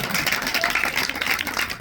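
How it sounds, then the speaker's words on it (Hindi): Audience clapping in response to a request at a Hindi religious discourse, a dense, steady patter of many hands sustained throughout at moderate volume with no talk over it. "ताली बजा दो भाई, ताली बजा।"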